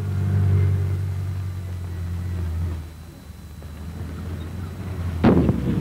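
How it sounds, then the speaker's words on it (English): Light British tanks roll up a road with a steady low engine rumble that eases off partway, and a single sharp crack bursts out near the end. "Up the road come the tanks at a fair bat."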